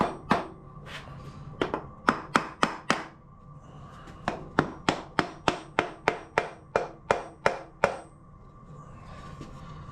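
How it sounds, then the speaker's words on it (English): Sharp, rhythmic hammer blows strike about two dozen times in quick runs with short pauses, close by and fairly loud. "I think my hammer's seen better days."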